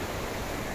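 A river flows through a northern forest, giving a steady, loud rush of water that fills the short moment with no voices over it.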